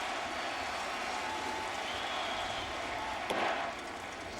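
Crowd noise from a Rays vs Yankees baseball game, a steady distant roar across the stadium with a brief sharp swell near the end.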